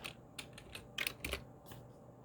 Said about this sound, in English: Let me just type in Second Ezra